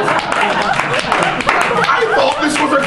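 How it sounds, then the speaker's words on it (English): A crowd claps and cheers in a loud, dense burst, with chatter and scattered laughter mixed into the steady applause. "Give me a round of applause."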